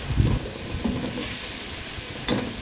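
Capsicum frying in a pan, a soft continuous sizzle broken by a few stirring scrapes near the start and end, close up and moderately quiet.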